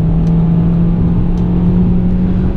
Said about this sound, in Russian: разгон, все получилось, оттормаживаемся до приемлемой скорости